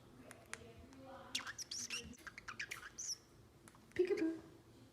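A small parrotlet chirps nearby in quick bursts of high, bright tweets and squeaky calls, ending with a louder squawky trill, fairly faint overall.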